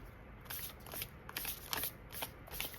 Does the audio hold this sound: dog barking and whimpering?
no